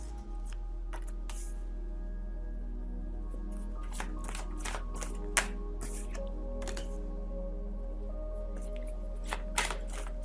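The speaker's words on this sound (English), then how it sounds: "let me just get the other cards out of the picture, onto the table" Tarot cards are laid out on a table during a reading, giving soft, scattered card slaps and light taps over a steady low hum, with no talking.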